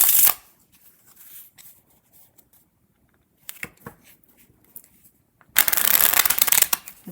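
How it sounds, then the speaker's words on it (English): A deck of playing cards being riffle shuffled, a sharp rapid flutter at the start, a short ripple midway and a longer loud burst near the end, separated by quiet handling. "typically you need to shuffle a deck of cards 7 times, riffle shuffle, to truly randomize it"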